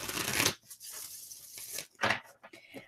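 Tarot cards being shuffled by hand, giving two short papery riffling bursts separated by quieter handling noise, close and fairly soft.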